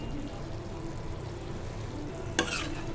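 A curry with chili powder is stirred in a sizzling pan, a continuous low frying hiss with a brief louder scrape or clatter of the spoon late in the clip, no speech over it.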